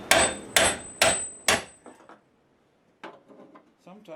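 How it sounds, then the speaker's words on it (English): A hammer strikes the hood hinge of a 2008 Toyota Corolla under collision repair, landing four sharp, evenly spaced metallic blows up close, followed by a pause and lighter clatter. "Wrong end of the hammer."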